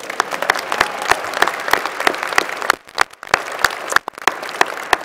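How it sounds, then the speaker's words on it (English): Audience applause at an engineering school winter commencement ceremony honoring a teaching award recipient, a dense steady clapping from a large crowd with sharp individual claps standing out, briefly dipping twice before continuing. "You can clap. Please go ahead."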